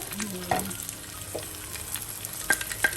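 An egg frying in oil in a home kitchen pan gives a steady, soft sizzle with a few brief louder spatters and pops, heard up close with no talking.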